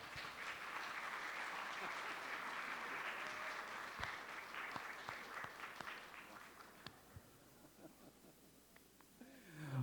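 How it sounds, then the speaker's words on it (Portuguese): A church congregation applauding, dense clapping from many hands that swells and then thins out toward the end, with a few louder individual claps standing out. "E recebeu o aplauso da igreja."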